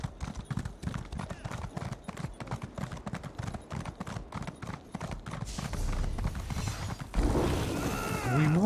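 Horse hooves galloping in the video game Elder Scrolls Online, a rapid regular clip-clop of hoofbeats for about five seconds that gives way to a whooshing rush and rising tonal game effects.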